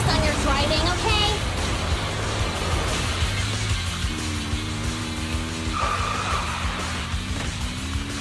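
A car skidding during a driving sequence in the video game Zenless Zone Zero, with a sustained tire squeal and engine drone over a dense, loud game soundtrack and effects.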